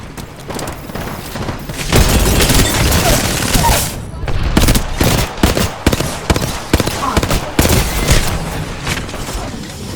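Rapid bursts of gunfire crackle almost nonstop, loud and close, with heavy booms mixed in, during a frantic Apex Legends firefight.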